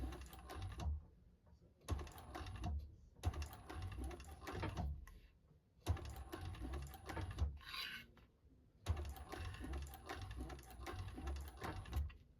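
A sewing machine stitches around a tote bag in short runs, each burst a few seconds long with a rapid mechanical whirr, separated by brief pauses, close and fairly quiet.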